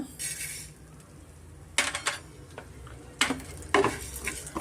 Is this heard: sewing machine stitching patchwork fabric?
no